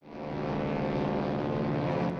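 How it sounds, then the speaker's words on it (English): A propeller airplane flying overhead gives a steady droning engine hum with a tonal buzz, sustained and fairly faint for the whole stretch, with no talk. "Could that be the plane that was behind us?"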